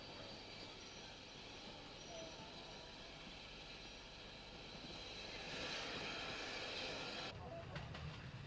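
A steam tank locomotive, number 457, rolls in with a train of carriages on an Irish railway in the 1950s, a faint, continuous rumble of wheels and rolling stock that grows slightly louder toward the end.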